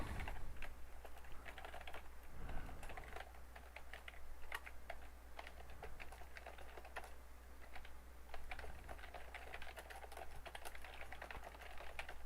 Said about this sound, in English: I could type all this while I talk